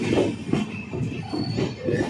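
Train wheels with a worn bearing give a steady rattling, clattering rumble at Sawantwadi railway station, loud and continuous with no talk.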